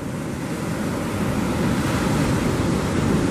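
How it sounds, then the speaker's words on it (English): Steady roar of ocean surf at the St Lucia estuary, broadband and continuous with waves washing in, loud and close, with wind buffeting the microphone throughout. "Oh, look how beautiful that ocean is."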